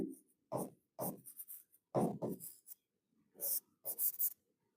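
Handwriting in a Marwar history lesson, probably chalk or marker on a board: several bursts of scratchy strokes in quick runs with short pauses, fairly close and clear, no voice over them.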